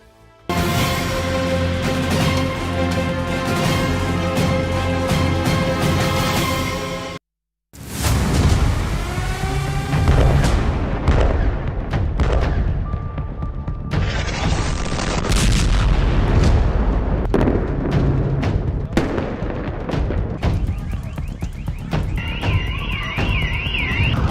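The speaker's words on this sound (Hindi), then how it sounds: "अब इजराइल की राजधानी तेल अवीव पर भी हिजबुल्लाह की मिसाइल मंडराने लगी है।" Hezbollah missile strikes on Tel Aviv: loud, continuous rumbling booms and blasts, with a brief drop to silence, then sharp cracks, whooshing streaks and rising-and-falling siren-like tones, dense and chaotic throughout.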